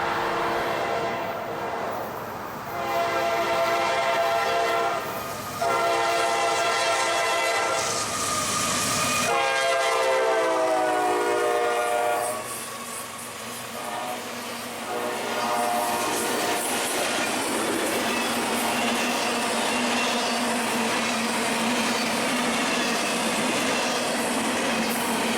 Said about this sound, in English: here comes our second southbound train